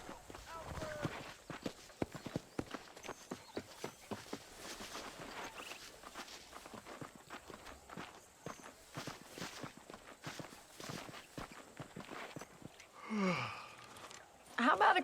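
Horse hooves clip-clop at a steady walking rhythm in the Red Dead Redemption video game, moderately close and light, under speech throughout, with a louder burst of other noise near the end.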